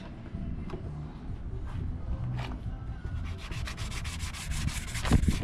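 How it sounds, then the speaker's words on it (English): A car body is hand sanded with 400 grit sandpaper to strip plastic residue: close, continuous rubbing strokes with a rhythmic scratch that speeds up toward the end, no talking. "I'm hitting it with 400 grit just a little bit, and then I'll come in and smooth it out with 600 grit"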